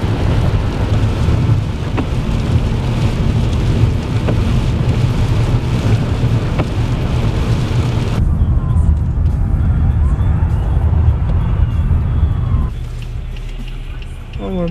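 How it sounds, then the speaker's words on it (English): Steady heavy rain and low rumbling noise fill the cabin of a car driving home on a freeway in a thunderstorm, loud and continuous, shifting to a quieter, duller wash partway through. "the rain was off and on pretty much the whole way"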